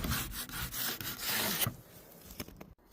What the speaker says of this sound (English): Find myself a really nice little scraper so I can get in there,